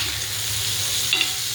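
Ridge gourd roasting in a covered pan gives a steady, soft sizzle throughout, with a brief louder crackle near the end and no voices.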